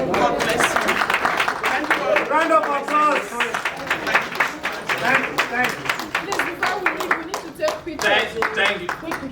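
Audience clapping at a Nigerian community convention's meeting and election day, a dense patter of hands with voices and cheers mixed in throughout.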